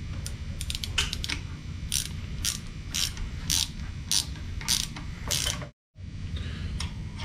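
A ratchet wrench tightens a 5/8 bolt on a Maximum Motorsports axle bushing tool for an 8.8 axle: a run of close, crisp clicking strokes in short bursts, a brief pause, then more cranking.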